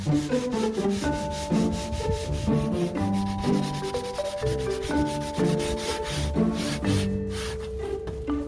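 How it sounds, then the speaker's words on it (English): Wood sanding on a board meant for a sleeping-loft railing inside a wooden tiny house, a continuous rasping rub that runs steadily for the whole stretch with no talking. "Now I'm working on sanding the board that's actually going to go upstairs in the sleeping loft behind our railing."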